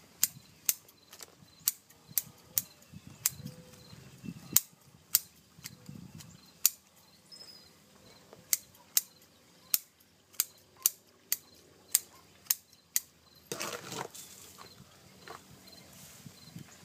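Sharp bonsai root shears snipping through root tips, about twenty crisp, isolated clicks spaced at an irregular pace, close and clear over a quiet background with soft rustling of roots and soil between cuts.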